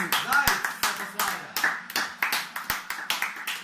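Crowd clapping in the FIFA 14 football video game comes in sharp, evenly spaced bursts, loud and close, repeating over a few seconds.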